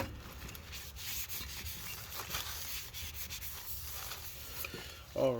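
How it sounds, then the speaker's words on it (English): A cloth rubs steadily back and forth over the front brake rotor of a 2007 Honda Odyssey after it is sprayed with brake cleaner, a close continuous scratchy wiping sound. "We're going to spray this down with some brake cleaner. And let's go ahead and wipe this down."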